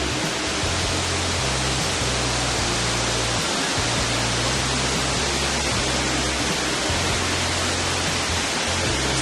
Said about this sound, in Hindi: नेचुरल वाटरफॉल लग रहा है ये पूरा।